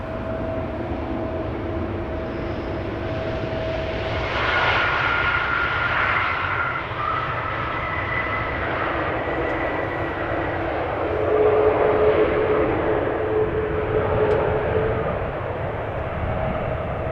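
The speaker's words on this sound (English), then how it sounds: "That Dreamliner we saw flying downwind will be next. Arriving from Buenos Aires." Boeing 787 Dreamliner jet arriving at Amsterdam Schiphol Airport from Buenos Aires, its engines a steady distant roar that swells and grows louder midway, with no talk.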